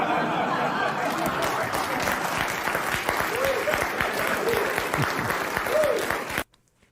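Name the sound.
audience applause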